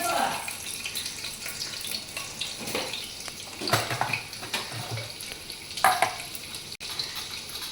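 Sliced garlic cloves dropped into a very hot pressure cooker, a loud hiss and sizzle with clattering and scraping bursts, close by, with someone talking over it.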